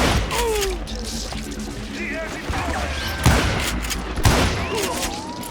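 Gunfire in the Call of Juarez: Gunslinger western shooter: scattered loud shots and a couple of sharp booms ring out over game sounds while someone talks over the action.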